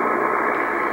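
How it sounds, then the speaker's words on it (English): Radio teletype signal received on the 21 MHz amateur shortwave band, a steady, loud band of static-like hiss and tone filling the whole second without pause. "This is radio teletype, another radio amateur mode."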